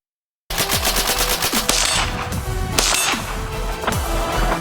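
A stock AK rifle fires repeated shots in a loud, dense, sustained burst with sharp cracks piercing continuous roaring reverberation, close and powerful throughout.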